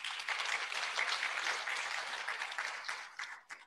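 An audience at an International Women's Day celebration claps for a minister, a crowd's applause swelling briefly then thinning and fading toward the end, heard at a moderate distance.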